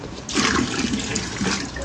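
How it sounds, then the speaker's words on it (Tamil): Water rushes and splashes steadily close by, a continuous gurgling pour into a fish tank, no voices. "மீனோட மண்டையிலே தண்ணி ஊற்றுறா அவள் தகச்சி"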